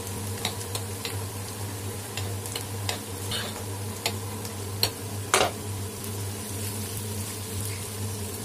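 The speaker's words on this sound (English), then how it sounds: "Now fry it for 1 minute after adding the mustard" Taro stolon fries in a pan with mustard, a steady close sizzle under occasional sharp stirring clinks and scrapes of a utensil against the pan.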